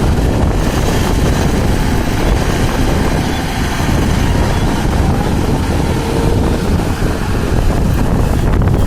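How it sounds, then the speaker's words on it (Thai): Strong wind buffets the microphone in an open field after harvest, making a loud, constant, rumbling roar with gusty fluctuations throughout. "โอ้ลมแรงมากครับ อาจจะมีเสียงรบกวนนะ"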